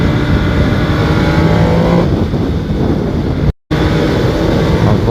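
A 2021 MV Agusta Brutale 800 RR motorcycle engine roars loud and close, revving hard with rising and falling pitch while riding, with a very brief dropout partway through.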